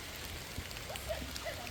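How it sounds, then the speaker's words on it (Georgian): Rain falls steadily outdoors, a continuous soft hiss of drops with a few faint taps standing out, moderately quiet and even throughout, with no voices. "მაგრამ ჩვენ წვიმაში ვდგავართ"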